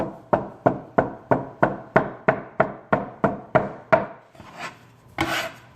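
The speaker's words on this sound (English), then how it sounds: "Little bit of flour, like before, and then we cut, tac, tac." A knife cuts gnocchi dough on a floured board in about a dozen evenly spaced, crisp taps, close and clear, followed by a couple of softer scraping sounds.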